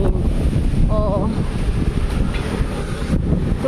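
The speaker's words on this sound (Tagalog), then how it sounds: "Gumagalaw-galaw siya kasi malakas ang hangin." Strong, cold wind buffets the microphone outdoors near a Taiwan market, making a constant low rumbling roar with gusty swells throughout.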